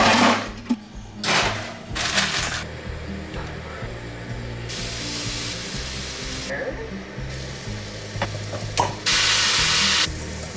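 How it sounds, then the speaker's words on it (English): Potatoes frying and sticking in a pan while being stirred, a steady close sizzle broken by bursts of scraping and spatter, with a low hum underneath and some talk in the room. "the potatoes stuck to the pan because I'm an idiot who didn't remember to whatever"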